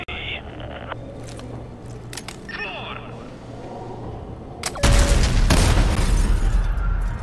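A loud explosion in the video game Call of Duty: Modern Warfare 2 Remastered, a sudden heavy boom that breaks over quieter game ambience and scattered dialogue, then a sustained roaring rumble.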